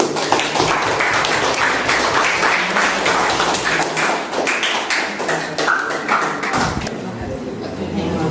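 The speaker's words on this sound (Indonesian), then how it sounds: "kasih aplaus untuk kelompoknya Putri" A classroom of students claps for a group, a dense spread of hand claps that carries on for several seconds and then fades, with voices mixed in toward the end.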